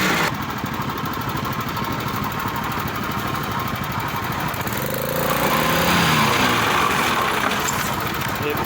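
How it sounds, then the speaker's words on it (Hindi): A large petrol generator powering a concrete block press machine at a block factory drones loudly and steadily up close, its engine chatter growing slightly louder midway as the machinery works. "ये ब्लॉक प्रेस करने वाली मशीन है तो सारा पेट्रोल जनरेटर लगा है बड़ा सोना जनरेटर"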